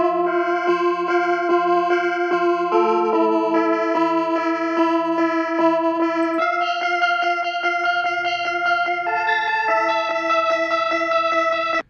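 A bright, repeating synth arpeggio melody colored by a gritty vinyl distortion plugin, steady and continuous with no voices.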